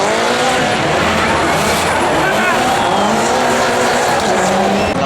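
A rally car at the 2012 Barbórka Warszawska rally in Warsaw blasts past spectators, its loud, close engine roaring continuously with squealing tyres, while voices carry faintly underneath.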